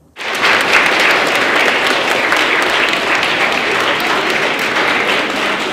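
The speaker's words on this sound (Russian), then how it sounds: "Ветеранов здесь встречают аплодисментами и непременно стоя." Loud, sustained applause from a standing audience greeting veterans at a student holiday concert in Rostov, starting abruptly and holding a dense, even roar of clapping throughout.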